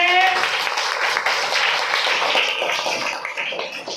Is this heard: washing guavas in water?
no